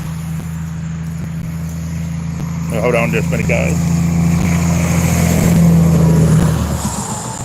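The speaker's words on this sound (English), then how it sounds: "another loud truck coming." A loud truck passes along a nearby road, its engine rumble swelling to a peak and then fading, while someone speaks briefly over it.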